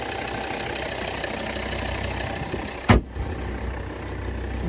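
A 2017 Volvo V60 Cross Country with a 2.4-litre D4 diesel and automatic gearbox idles steadily, a smooth even hum broken by one brief thump near the end.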